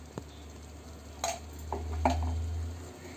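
Spices are stirred into egg curry in a pan, with a few distinct scraping clinks of a spoon against the pan over a low steady hum, spaced out irregularly and heard close up without talk.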